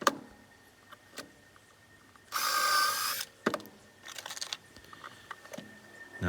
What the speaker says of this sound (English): Now I'm going to drill pilot holes first so I don't split the wood.